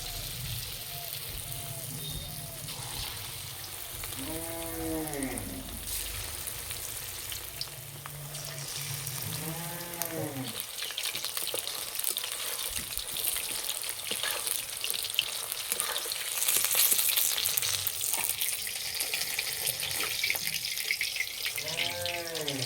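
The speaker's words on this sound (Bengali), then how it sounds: "বাকিগুলো একই রকম করে ভেজে নেব।" Chicken 65 pieces frying in oil give a loud, steady, close sizzle that runs throughout, with a few brief voice-like tones rising above it.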